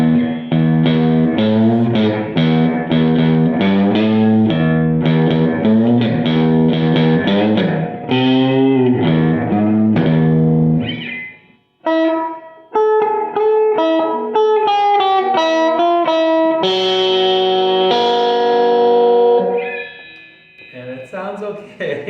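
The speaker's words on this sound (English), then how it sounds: "Let's see if we can get something usable out of that distortion." Electric guitar played through the distortion channel of a First Act M2A-15 amplifier, loud buzzy chords strummed repeatedly, then a run of single notes and a held ringing note, with brief gaps in between.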